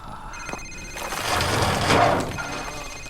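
A phone rings in Call of Duty 4 Remastered, a ringing tone swelling and fading over a few seconds amid game ambience.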